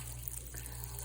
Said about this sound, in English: I'm just putting water on them so they don't dry out and die.